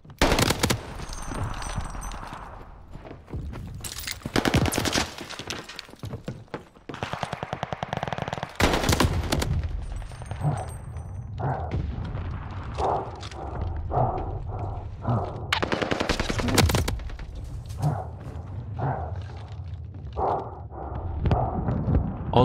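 Gunfire from a battle-royale video game, with loud sharp shots and rapid bursts spread through the stretch, some isolated single cracks and some dense volleys, over faint game noise and footsteps.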